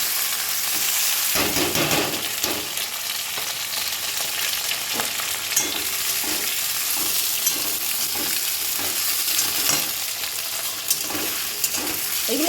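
Onion, capsicum and tomato, added together with chopped green chilli, sizzle and fry steadily in a pan, with occasional stirring scrapes, continuous and fairly close, no talking.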